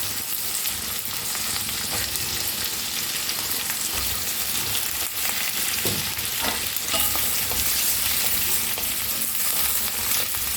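Chopped onions fry in a pan while egg chilli is cooked, giving a loud, steady, dense sizzle with occasional stirring scrapes throughout, no voices over it.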